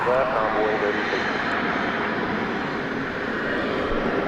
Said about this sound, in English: We've got an Airbus A321 headed out.